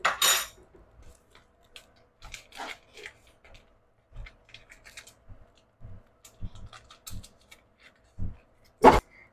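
A big spoon scoops seasoning into a seafood boil pot holding a bay leaf, giving sparse, close metallic clinks, taps and scrapes spread over several seconds, with louder bursts of rattle at the start and end.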